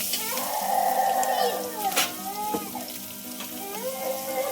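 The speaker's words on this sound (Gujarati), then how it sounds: "આપણો વઘાર આવી ગયો છે" Vaghar tempering sizzles in hot oil with curry leaves, chilies and tomatoes for drumstick kadhi; a steady close frying crackle runs throughout, with a few sharper pops over faint background tones.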